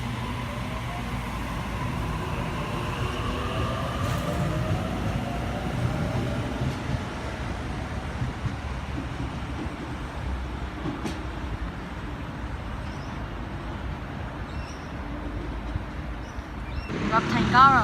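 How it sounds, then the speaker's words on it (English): A Tangara train approaches platform 2 at Thornleigh station, Sydney. A low, steady rumble with rising whine and rail noise grows gradually louder, with voices faintly present. "We have Tangara approaching platform 2, Central service."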